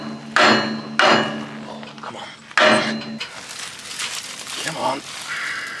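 A sledgehammer bangs on cultivator legs in three loud, sharp metallic strikes spaced a second or so apart, followed by rustling and a voice talking.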